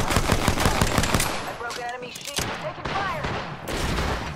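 Rapid automatic gunfire in the Apex Legends battle royale, dense bursts of shots close by with brief pauses, overlapping scattered voices and game chatter.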